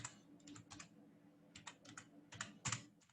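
Quiet, close computer keyboard typing as a code comment is entered, with irregular clusters of soft key clicks and brief pauses between bursts.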